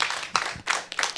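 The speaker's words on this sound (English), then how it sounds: "Can we give these young men a round of applause for sharing the way they shared?" Audience applause for a group of young men after they share their stories at a mental health awareness program: a dense, steady wash of many hands clapping, fairly loud and close, with a couple of brief dips in the short burst.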